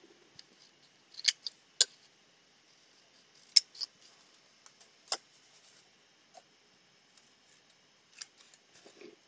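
Scissors cutting paper for scalloped treat boxes: a handful of sharp, close snips at irregular intervals with quiet gaps between them and no voices.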